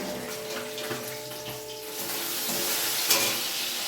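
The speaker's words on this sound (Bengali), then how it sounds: "কড়ার মধ্যে কতগুলো ভাজা বসিয়ে দিয়েছি" Bata fish frying in a wok make a continuous, busy sizzle and spatter close by, with a brief sharp crackle near the end and no talking.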